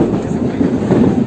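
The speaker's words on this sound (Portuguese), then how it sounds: "Tem vezes que a gente deixa o trem passar aqui" Train passing through a São Paulo station, a steady loud rolling rumble with rhythmic clickety-clack of wheels over rail joints, close by and without talk.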